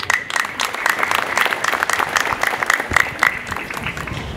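Worshippers at a church service clap in unison, a full, sustained burst of hand claps with some sharper individual strikes standing out, loud and close throughout.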